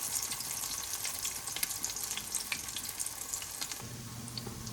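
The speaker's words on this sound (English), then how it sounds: "those patties are all in, cooking well" Salmon croquette patties fry in a pan with a continuous crackling sizzle, small pops scattered throughout and a low hum entering near the end.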